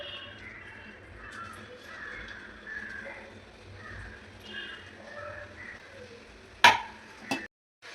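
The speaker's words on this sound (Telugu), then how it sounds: "ఆయిల్ అయితే వేడైంది ఇప్పుడు వీటిని అయితే వేసుకొని ఫ్రై చేసుకోవాలి" Spicy evening snacks fry in hot oil with a soft, steady sizzle and light stirring, closing with two sharp clattering knocks of a utensil against the pan.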